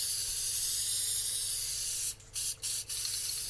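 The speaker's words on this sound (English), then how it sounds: "He did enjoy squirting those aerosols." Aerosol can of hair spray hissing in a steady, continuous spray, then broken into three short bursts near the end; fairly close and alone, with no voices.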